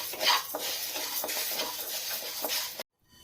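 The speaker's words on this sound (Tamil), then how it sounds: "இப்போ மீடியம் ஃப்ளேம்லேயே வச்சுட்டு 2லேருந்து 3 நிமிஷம் வரைக்கும் நல்லா வறுத்துக்கலாம்." Moong dal dry-roasts in a pan over a medium flame, with soft repeated scraping and stirring against the metal and a faint crackle, fairly quiet, before cutting off abruptly.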